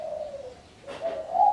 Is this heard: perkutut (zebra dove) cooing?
yes